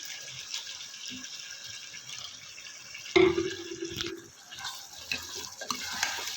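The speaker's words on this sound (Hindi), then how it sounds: "अब हम इसमें शामिल करेंगे तकरीबन 1 गिलास पानी।" Water pours steadily into a pot of chicken karahi for about a second, a short splashing gush amid quiet kitchen clatter and a faint background hiss.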